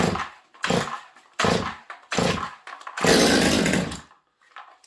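A Stihl MS200T chainsaw on full choke gives several sharp pull-start bursts in quick succession, then catches and sputters loudly for about a second before cutting out, heard up close.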